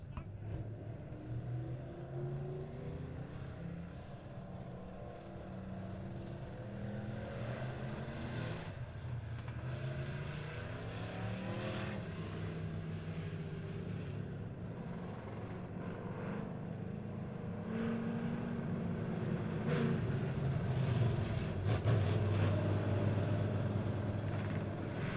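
Race cars at Monett Motor Speedway roll onto the dirt oval for a heat race, a continuous layered engine drone with shifting pitch that swells louder toward the end.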